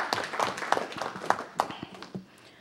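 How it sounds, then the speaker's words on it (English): Scattered, fairly faint clapping from a small audience at a Gardena city council meeting, a few distinct claps fading out after about two seconds. "Everyone, please give him a round of applause."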